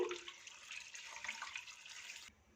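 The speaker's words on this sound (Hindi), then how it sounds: "मटर को खुले पानी से अच्छी तरह से धो लेंगे।" Shelled green peas are rinsed under running tap water, a soft, steady splashing rush that stops abruptly near the end, heard quietly with no speech.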